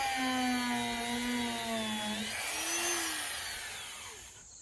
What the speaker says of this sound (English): I thoroughly hate these sanders. They don't work at all.